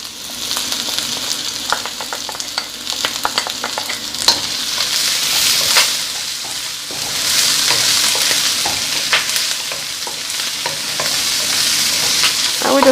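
Beef, vegetables and three cloves of garlic sautéing in a pan for a stir fry, loud close sizzling with repeated scraping and stirring clicks from a utensil, swelling in waves, no voices.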